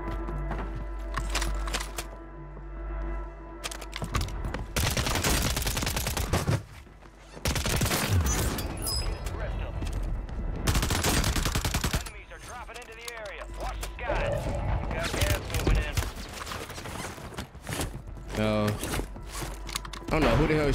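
Bursts of gunfire in the Warzone 3 video game, including the WSP-9 submachine gun, fire repeatedly and loudly in dense volleys, with a voice speaking over parts of the shooting.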